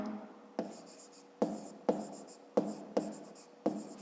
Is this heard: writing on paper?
yes